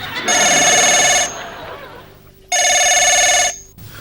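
A telephone bell rings loudly in two long bursts separated by a short pause, close and piercing.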